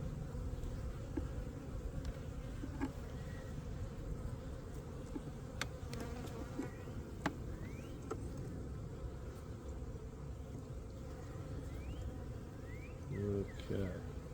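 Honeybees buzzing around an opened hive during a spring inspection: a dense, constant low drone of many bees close by, with individual bees zipping past and a person talking quietly now and then.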